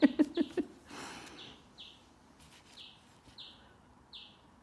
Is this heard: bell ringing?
no